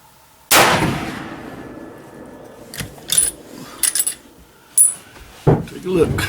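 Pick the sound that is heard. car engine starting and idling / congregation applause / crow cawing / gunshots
gunshots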